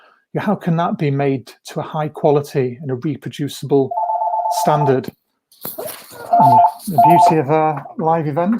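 A telephone rings during a live talk on how a molecule becomes a medicine, its electronic warble sounding in a few short bursts over and between a speaker's voice.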